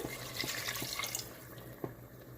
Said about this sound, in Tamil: ஸோ 1 கப் மட்டும் தண்ணி சேர்த்து